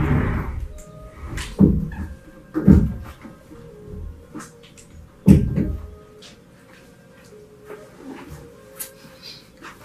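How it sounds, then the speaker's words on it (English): A door is pushed shut indoors, giving a few dull thumps and bumps spread across the moment, with quieter rustling between them. "Shut this door because I can't deal with"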